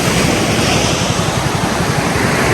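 Strong sea waves surge and crash steadily at Camara Island in Zambales, a loud, continuous roar of surf with wind noise close to the microphone and no voices.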